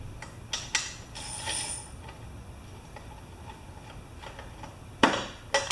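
Bolts are tightened on the cork valve cover of a Karcher pressure washer engine, giving a scattering of close, sharp metallic ticks and ratchet clicks between quiet gaps.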